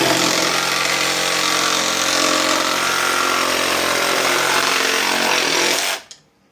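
Plasma cutter slicing through metal for a pair of brackets, a loud, steady hissing roar held for about six seconds before cutting off abruptly into quiet.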